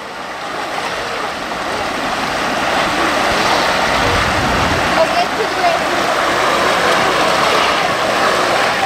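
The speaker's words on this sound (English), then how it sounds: "Jet boating at his leisure now." Tiny RC jet boats race along a creek, their engines giving a steady, rising buzzing whine mixed with rushing water, while commentators talk over the action.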